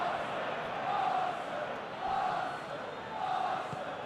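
Stadium crowd in PES 2021 football game, Arsenal versus Chelsea Premier League match, roaring in broad swelling waves that rise and fall three times, steady and moderately loud with no talk over it.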